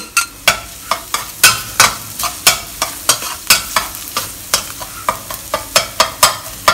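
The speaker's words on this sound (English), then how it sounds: "We'll fry our garlic and ginger." Chopped garlic and young ginger frying in a pan under steady sizzle, with a regular run of loud scraping stirs from a utensil, about two per second, and nobody talking.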